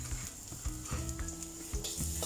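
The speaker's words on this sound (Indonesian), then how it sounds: "Setelah itu tumis bawang putih." Garlic stir-fries in hot oil in a pan for a Hong Kong-style sawi and meat dish, giving a steady close sizzle with soft scraping stirs throughout and no voices.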